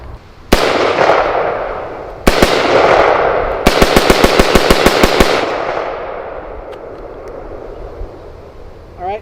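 A 300 Blackout rifle on a Hoffman Tactical lower fires two single loud cracks, then a rapid string of about a dozen shots, each echoing outdoors before fading.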